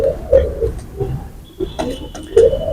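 A female Dhaka-line pigeon coos in soft, low murmuring bursts close by, with a thin steady tone and a few light clicks in the background.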